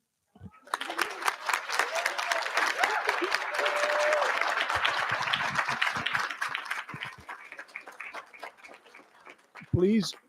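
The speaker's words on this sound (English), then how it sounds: "Please join me in one more round of applause" An audience claps at a school board meeting. The applause starts abruptly, stays steady for several seconds, then thins out, and a voice breaks in near the end.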